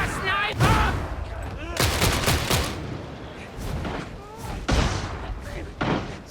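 Sniper rifle fire in Warhammer 40,000: Darktide, a handful of sharp, loud cracks with heavy reverberant tails spaced a second or two apart amid battle noise, with a voice shouting over the shots.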